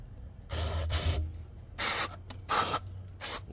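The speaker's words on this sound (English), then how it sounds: "Let it penetrate and spray this side." Four hissing bursts of aerosol cleaner sprayed onto an Acura TL throttle body, each lasting a fraction of a second to half a second, separated by short pauses, close and fairly loud.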